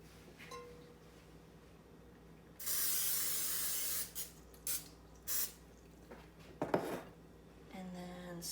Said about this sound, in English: you want to spray your bread pan